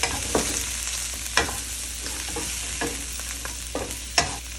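Shrimp and pork ribs stir-fried in a pan for savory pumpkin rice, a steady sizzle with periodic scraping stirs of the spatula, close and fairly loud, no voices.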